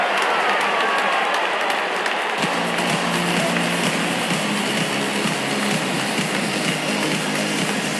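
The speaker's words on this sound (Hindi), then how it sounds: "जब अपोनेंट फैंस भी ताली बजा दे" Crowd applause at a Pakistan vs India cricket match after a boundary four, a broad continuous roar of clapping and cheering heard as a steady wash throughout.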